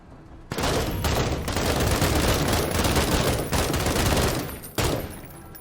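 Sustained heavy gunfire from a squad in the combat game MENACE, a dense continuous roar of overlapping shots lasting several seconds, briefly dipping and then resuming before trailing off.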